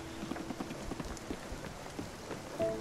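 In Spiritfarer, rain patters softly and steadily with scattered drop taps and faint tonal game sounds, quiet and alone.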